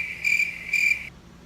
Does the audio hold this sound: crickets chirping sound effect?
yes